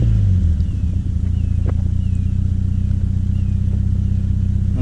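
A Triumph Spitfire engine, warmed up after a drive back to the house, rumbles close and loud in a steady low idle-to-rev drone with a slight surge at the start, alone without talk.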